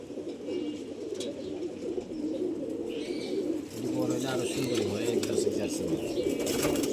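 A loft of new male racing pigeons fills the air with a dense, continuous chorus of overlapping low coos, steady and fairly loud, with a person's voice faintly present at times.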